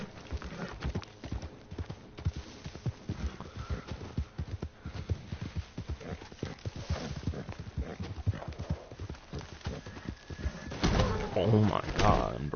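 Horse hooves clip-clopping at a steady gallop rhythm in Red Dead Redemption II, continuous close hoofbeats with faint bird coos in the background and a louder burst near the end.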